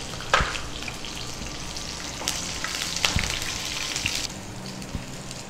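Gentle, steady frying sizzle of cashews in oil with a few light clinks and pops, close by and quiet, with no voices.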